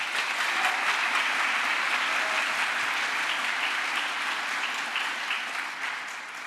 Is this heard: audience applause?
yes